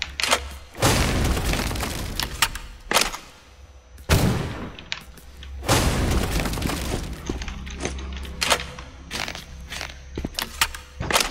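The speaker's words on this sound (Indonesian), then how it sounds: "Sampai kapan gue nembak-nembak kayak gini, anjir?" Loud, sharp gunshots in the horror game Paper Dolls 2 come in irregular single shots and short clusters, each with a booming tail, separated by footsteps and quieter gaps.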